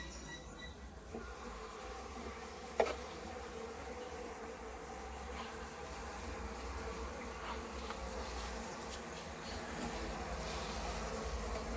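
Honeybees on a brood frame, among capped brood and drone cells, make a steady, continuous hum that stays fairly even throughout. A single brief louder buzz rises near the start. No one speaks.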